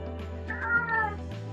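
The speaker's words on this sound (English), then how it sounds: "I'm sorry about the cat." A house cat meows in a wavering, rising-and-falling cry at moderate distance over a steady low hum, with no talk.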